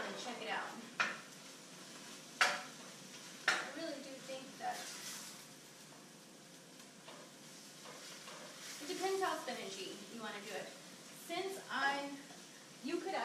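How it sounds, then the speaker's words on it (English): Spinach wilting in a pan is stirred with a utensil, giving soft scraping and sizzle with a few sharp clinks against the pan, mostly heard beneath a person talking. "once your spinach gets nice and green, I'm going to grab you and show you this. You can kind of stir it around and check it out"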